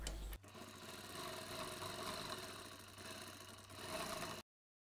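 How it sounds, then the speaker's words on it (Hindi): A sewing machine runs steadily for about four seconds, stitching a double seam on a blouse, a close, even mechanical whir with a rattling hum that cuts off abruptly at the end. "अब इस पर लगाते हैं एक डबल से सिलाई"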